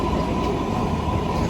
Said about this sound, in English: So we are at the train station.